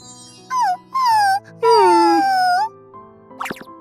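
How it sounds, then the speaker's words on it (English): A dog whimpers and whines nearby in three drawn-out, high, wavering cries that fall in pitch, followed by a short sharp yelp, over a quiet background. "A dog is being washed away again?"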